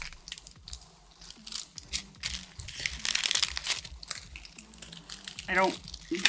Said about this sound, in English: These cellophane treat bags are gonna be what they are.